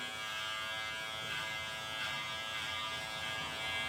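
Electric hair clippers cutting a short men's fade haircut give off a steady, even buzz, close but faint, with slight rises as the blades move through the hair.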